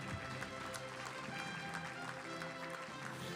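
Crowd applause at a firefighters' bravery awards ceremony, a steady dense wash of clapping that holds at even strength throughout.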